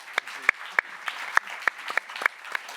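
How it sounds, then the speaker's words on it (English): Scattered applause from a small start-up event audience, a handful of distinct, fairly close hand claps arriving in a loose, uneven rhythm. "a round of applause for Ronnie"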